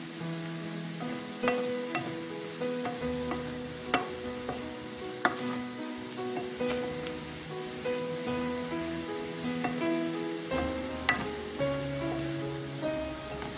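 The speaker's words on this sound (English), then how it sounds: "Make sure you mix this in with the mince." Mince with mushrooms for spaghetti bolognese fries and gets stirred in a pan, a steady close sizzle with scraping stirs and occasional clacks of the utensil, under quiet background music and with no talk.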